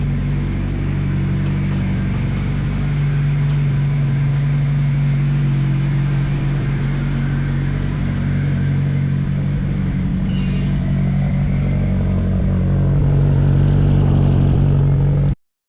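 A Nissan Sentra's SR20 engine, its fuel system freshly rebuilt, fires up and settles into a steady, loud idle with a deep low rumble that holds throughout, briefly swelling louder near the end before cutting off.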